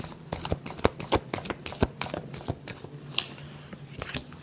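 Tarot cards being shuffled by hand, a quick string of crisp riffling flicks and slaps in an uneven rhythm, close and alone with no talking.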